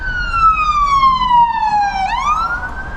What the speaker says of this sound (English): ambulance coming up behind us